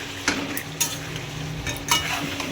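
Goat meat with chilli powder, salt, turmeric and cumin sautés in a wok, a steady sizzle broken by several scraping stirs of a spatula against the metal, close up and without talk.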